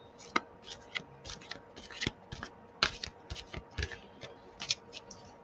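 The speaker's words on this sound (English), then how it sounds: "so let's give these a shuffle" Very large tarot cards are shuffled lengthwise in a soft, quiet series of riffling flicks and taps, uneven in rhythm and fairly close, with no voice.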